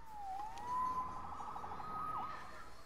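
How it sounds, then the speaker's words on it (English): A police siren in the video game Marvel's Spider-Man wails in a single rising and sweeping tone, moderately close and clear, with no talking over it. "Saved by the siren."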